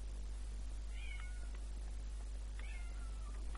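A cat meows twice, faint and somewhat distant, over a constant low electrical hum.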